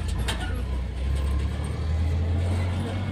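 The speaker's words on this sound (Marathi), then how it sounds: "आता गाडी चाललेली आहे पुढं" A tempo van carrying a family to a wedding drives steadily along the road, its engine a low continuous rumble heard from inside the cabin, with road noise throughout.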